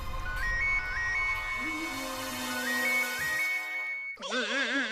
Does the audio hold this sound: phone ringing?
yes